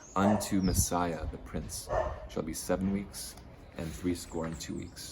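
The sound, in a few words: dogs barking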